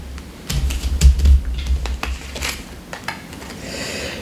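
Tarot cards are drawn and handled on a table in a series of short, close taps, flicks and light knocks, with a brief low thump near the start and no voice.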